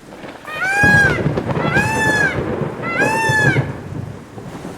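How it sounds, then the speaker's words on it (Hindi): Heavy cartoon rain hisses steadily under low rumbling thunder for about five seconds, while three rising-and-falling bird-like calls ring out over the storm at regular intervals. "तुम दोनों इतनी तेज बारिश में कैसे जाओगे?"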